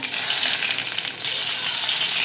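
Small stuffed eggplants in green masala sizzle and fry steadily in a hot pan, a loud continuous crackle with no talk.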